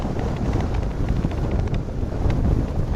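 Strong gusting wind of about 43 mph buffeting an outdoor microphone at a DFW airport runway, a continuous loud rumbling roar with surging low-end pressure throughout.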